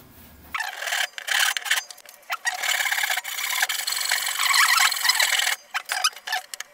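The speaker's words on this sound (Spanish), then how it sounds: "Pues vamos a tener que cortar la pieza." A wooden piece being cut by hand for a carpentry mallet, rough rasping strokes in bursts with short pauses, loud and close, no voices.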